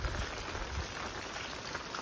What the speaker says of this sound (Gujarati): કેમ કે વરસાદ એ ચાલુ છે.